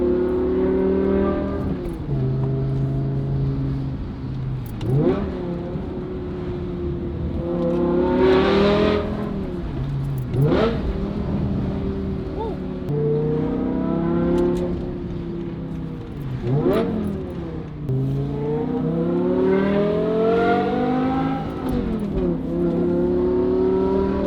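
A BMW E60 M5 with its V10 engine, Valvetronic Designs valved exhaust and stock headers revs repeatedly, rising and falling in loud, close, sweeping pulls for the whole stretch, with no talk.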